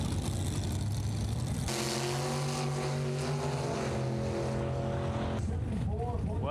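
A sand drag race car launches down a dirt track with a loud, sustained engine roar that rises in pitch as it accelerates, then cuts off abruptly, with voices speaking near the end.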